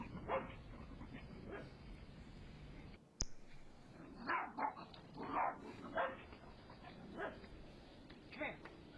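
Dogs bark from a backyard across the street, repeated sharp barks and yips spaced over several seconds, somewhat distant, with a click partway through.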